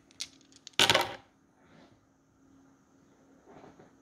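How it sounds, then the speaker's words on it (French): Dice rolled on a table during a number game, a quick clatter of small dice with a few light taps and then one loud burst of tumbling, followed by quiet room tone. "Je relance les dés."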